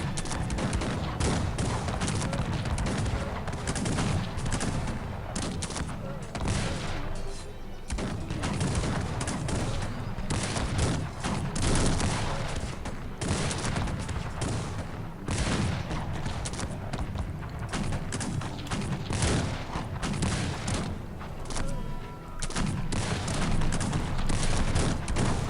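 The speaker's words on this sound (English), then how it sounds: "multi-barrel cannon deal the damage while the units protect" Multi-barrel cannons and massed gunfire in a Cossacks 3 battle: continuous crackling volleys and booming shots layered into a dense, loud din with brief lulls, sustained throughout.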